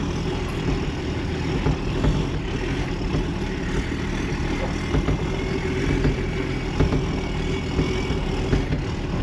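The motor of a large homemade prototype vehicle runs steadily at close range, a continuous low, rough drone with small rattles and knocks layered over it.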